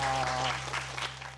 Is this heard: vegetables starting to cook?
no